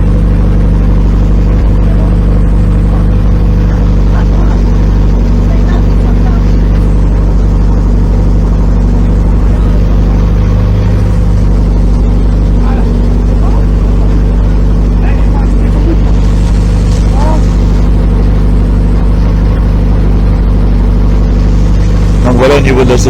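A rally race car's engine runs close by with a steady, rumbling, low, even drone while people talk over it.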